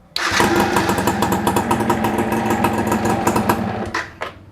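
A motorcycle fitted with a new LiFePO4 lithium iron phosphate battery cranks and catches at once. Its engine runs with a loud, close, rapid pulsing beat for about four seconds before cutting off, with no talk.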